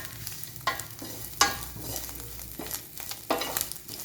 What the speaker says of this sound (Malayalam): ഉപ്പ് എല്ലായിടത്തും വരണം കരിയാൻ പാടില്ല നന്നായി ഇളക്കി കൊടുക്കണം